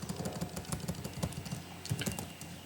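Keys clatter on a computer keyboard while JavaScript code is typed, a quick uneven run of close, crisp taps in small bursts with short gaps between.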